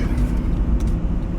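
A car cruising on a highway gives a steady, loud broadband rumble of engine and road noise throughout, with no speech over it.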